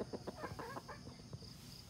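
A hen clucks in a quick series of short, soft notes close by, over faint steady background hum.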